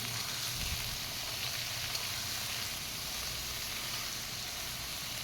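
Eggplant pieces fry in hot oil with onion and dried chili, giving a steady, close, even sizzle that runs unbroken throughout with no talking.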